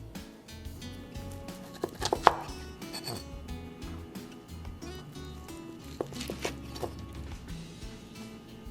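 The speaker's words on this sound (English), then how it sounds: "We're ready to slice these ribs. And you just want to slice right in between the 2 bones" A knife cuts between the bones of oven-baked BBQ ribs, giving soft, close cutting and squishing sounds with a few sharper taps on the board and no speech.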